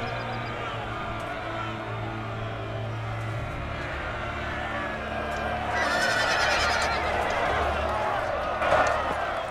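Horse neighing and galloping cavalry in the Napoleon: Total War American Civil War mod, a busy battlefield roar with a low droning tone early and a louder swell of hoof and crowd noise near the end.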